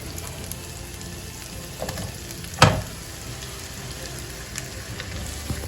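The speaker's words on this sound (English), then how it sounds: "I'm gonna add our onions in first." Onions frying in a hot pan for a cheesy ham and potato casserole give off a steady, close hiss of sizzling, broken once midway by a sharp clatter. No voices are heard.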